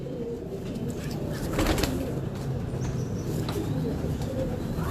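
A flock of pigeons kept for pigeon flying coos in a steady, low murmur, with a few brief sharper sounds like wing or handling noises breaking through.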